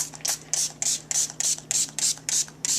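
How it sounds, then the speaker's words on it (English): Repeated short hissing spray bursts of alcohol from a pump bottle onto cold-process soap, about ten quick squirts in a steady rhythm, close and clear with a faint steady hum beneath. "Just want to spray a little alcohol on it to prevent some soda ash."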